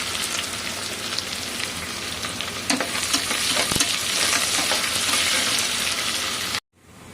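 Onions frying in oil with cinnamon, peppercorns, dried chillies and bay leaves, a loud dense sizzle with stirring scrapes near the pan, continuous until it cuts off abruptly at the end.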